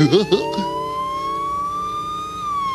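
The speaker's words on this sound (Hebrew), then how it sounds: "זאת סירנה של מכבי האש!" A wailing fire engine siren sweeps steadily up and down, loud and close, after a brief burst at the start.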